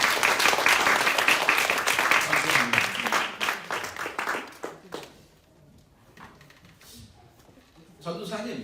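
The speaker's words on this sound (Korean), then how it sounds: "박수 한번 치면 좋을 텐데" Church congregation at a Korean Presbyterian revival service in Paris breaking into loud, dense applause that fades after about five seconds, followed by a quiet stretch and a brief renewed burst at the end.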